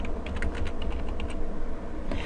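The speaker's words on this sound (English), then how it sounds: "just click inside your image to begin typing" Steady, rapid clatter of keys on a computer keyboard, close and fairly loud, continuing without pause and with no one speaking.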